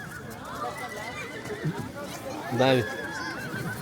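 A horse at a camping ground in Glenworth Valley lets out one loud, close whinny lasting under a second, amid people chatting nearby.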